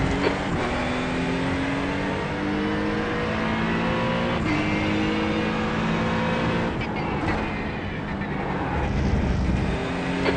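An Acura NSX GT3 race car laps Thruxton Circuit, its engine loud and continuous with rising revs through the gears, brief dips at shifts and a lift near the end, heard from onboard.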